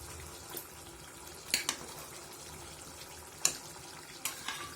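Chicken pieces go into hot, cooked-down spice paste and oil, giving a faint, steady frying hiss broken by a few sharp clinks and scrapes of stirring.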